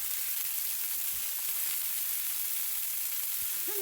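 Asparagus sautéing in hot olive oil in a pan over high heat, giving a steady, close, even sizzle with no talking.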